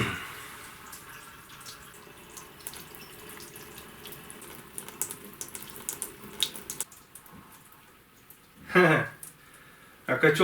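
Water runs steadily from an opened tap as a home heating system is drained, a soft continuous trickle and splash under quiet talk, with a louder gush near the end.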